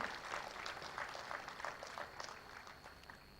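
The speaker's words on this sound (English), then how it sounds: "a big round of applause for the winners of the essay writing competition" An audience claps for the winners of an essay writing competition at a Statistics Day celebration, a faint, distant patter of scattered applause that fades toward the end.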